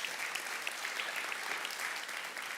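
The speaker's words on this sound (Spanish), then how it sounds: "Dale un fuerte aplauso a Dios." A church congregation applauds, a dense, even wash of many hands clapping that holds steady and fairly distant throughout, with no voices rising above it.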